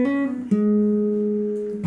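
Several sustained single guitar notes from a riff ring out cleanly in sequence, each held and slowly fading, with no voice over them.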